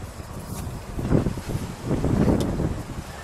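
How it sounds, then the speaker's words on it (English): Wind gusts rumble and buffet outdoors, swelling and easing in low, blustery waves with no one speaking. "It's a little windy"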